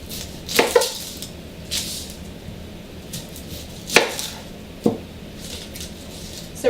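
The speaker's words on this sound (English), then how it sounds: "We're basically cutting them up." Onions and other vegetables for a broth are chopped into large pieces on a cutting board, giving several sharp knife thuds spaced irregularly with quiet gaps between them and no speech.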